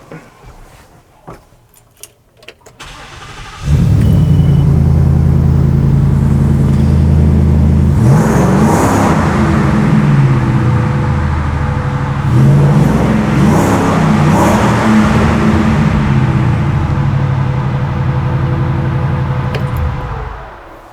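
A Velocity Ford F-100 truck's engine starts with a sudden roar after a few quiet seconds, then holds a loud, close, steady rumble with two swelling revs before settling, no voices over it.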